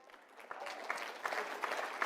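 A CPAC audience gives thin, scattered clapping that builds slightly, individual claps standing out rather than a full ovation, heard at moderate distance with no clear talk.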